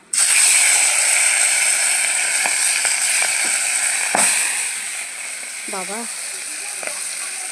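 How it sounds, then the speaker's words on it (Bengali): Singi fish (stinging catfish) frying in hot oil gives a steady, loud, close sizzle and crackle, with faint spitting pops and a brief voice partway through. "দেখো আমি মাছগুলো সব দিয়ে দিয়েছি তেলে"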